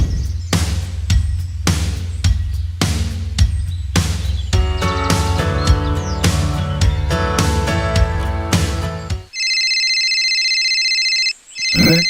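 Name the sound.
phone ringing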